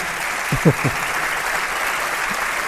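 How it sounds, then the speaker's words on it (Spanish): A studio audience on a Spanish television talk show applauds a guest with a loud, continuous hiss of clapping, while a voice briefly murmurs underneath. "Pido un aplauso"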